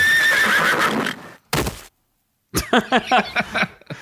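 A horse neighs loudly and close, a long quavering whinny, followed after a short silence by a brief burst and then a series of sharp snorting, whinnying calls.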